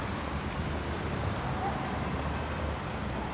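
Continuous broadband rush of wind on a cold autumn day, around plus five degrees, along Yartsevskaya Street in Moscow near a shopping centre, a steady roar with no breaks and no talking.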